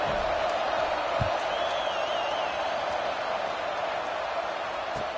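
Stadium crowd noise from the College Football 26 video game forms a steady, fairly subdued murmur, with a faint whistle-like whoop and a couple of soft thumps.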